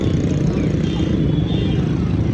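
A Hero Splendor motorcycle's engine drones steadily and close, a continuous low rumble with wind noise that holds for the whole stretch, with no distinct approach or fade.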